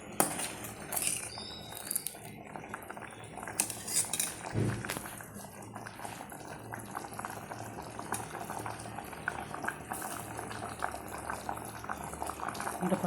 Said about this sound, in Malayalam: നമുക്കിതൊന്ന് തിളയ്ക്കട്ടെ നന്നായിട്ട് തിളയ്ക്കട്ടെ